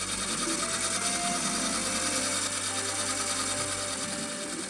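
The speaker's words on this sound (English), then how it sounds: "A diver proceeds to bore a large hole into the coral." Underwater, a water-pressure-powered hydraulic drill bores a core into a coral reef, giving a continuous dense mechanical whir with a faint rhythmic rattle, steady and unbroken throughout.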